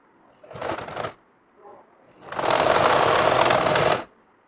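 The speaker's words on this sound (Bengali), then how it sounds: "এখান থেকে ধরে এই কোনায় সেলাইটা দিয়ে দিবেন" Sewing machine stitching the collar of a kameez, heard as a short whirring burst, a brief pause with a faint tap, then a longer steady run of rapid stitching, close and loud with no talk.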